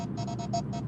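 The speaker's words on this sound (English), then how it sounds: "sorry for this beeping" Rapid electronic beeping in the background, a series of short regular high-pitched pulses repeating about every tenth of a second over a low hum.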